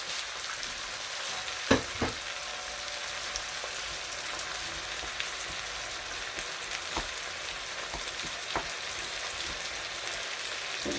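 Tomatoes frying and being stirred in a pan for a salade méchouia: a soft continuous sizzle with occasional louder scrapes and clinks of the utensil, fairly quiet and without talk.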